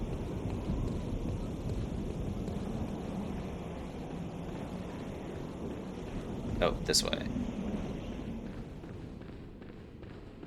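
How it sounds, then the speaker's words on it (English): Loud, steady wind rushing through the Bloodborne video game, a broad constant roar filling the whole stretch, with a brief sharp metallic ring partway through and someone talking briefly over it. "Something about, like, really loud wind sounds is kind of unsettling, huh?"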